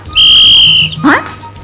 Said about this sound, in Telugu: పిల్లలతో గోళీలాటమే కాకుండా వాళ్ళ దగ్గర ఈలేయడం కూడా నేర్చుకున్నావా